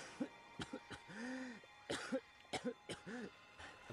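Several close, harsh coughs and throat-clearing rasps in the video game The Walking Dead Telltale Season 2 come in uneven bursts, one after another, with brief gaps between them.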